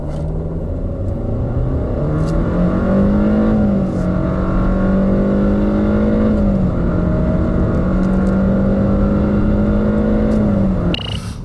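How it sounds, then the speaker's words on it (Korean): A Kia K3 compact sedan accelerates hard from a standstill, its engine droning loud and steady from inside the cabin, pitch climbing through the gears with brief dips at each shift, heard alone. "이번에는 이와 같은 파워트레인을 통한 발진 가속 성능에 대해서도 한번 확인해 볼까요?"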